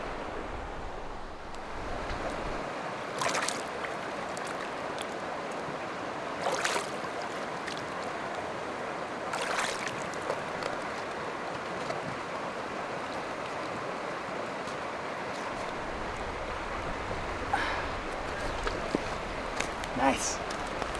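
A river rushing beside a snowy trail in the Grand Tetons, its steady broadband wash of flowing water continuous and fairly near, with occasional brief knocks and crunches over the top.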